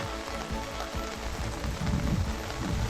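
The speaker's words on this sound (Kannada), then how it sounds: "ಮಳೆ ಜೋರಾಗಿ ಸುರಿತಾ ಇರೋದ್ರಿಂದ" Heavy rain pours down steadily on the Bhagamandala–Madikeri road in Kodagu, India, a dense close hiss of drops drumming on surfaces, loud and unbroken throughout.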